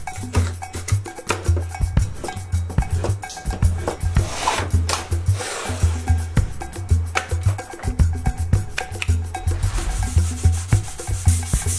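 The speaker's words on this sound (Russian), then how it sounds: "Ну и чтобы совсем было красиво, прохожусь мелкой шкуркой по всем граням." Fine sandpaper rubbed by hand along the edges of a kitchen cabinet facade gives a rhythmic, close scratching rasp, stroke after stroke in a steady back-and-forth pattern.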